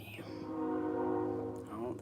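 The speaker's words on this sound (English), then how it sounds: "Oh, the train's going." Train passing with its horn sounding: one sustained, steady horn blast held for over a second at moderate distance, fading briefly and then returning at the end.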